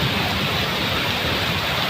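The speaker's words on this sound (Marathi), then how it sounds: "मान्सून नाही, पण याला वळवाचा पाऊस म्हणतात." Heavy pre-monsoon rain pours down in a thunderstorm, a dense, steady hiss that holds at an even level throughout with no voices.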